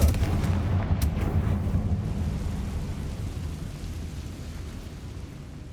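A Confringo fire-spell blast in Hogwarts Legacy lands as a sharp, loud explosive crack at the start, then decays into a long, fading rumble.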